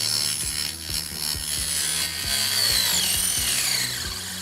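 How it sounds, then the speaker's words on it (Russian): A mini 12V drill fitted with a metal circular saw disc cuts into a ruler, giving a loud, close, buzzing whine with rhythmic grinding pulses and a rising pitch as the disc bogs and frees. "Давайте это все дело проверим, включаем, и давайте попилим"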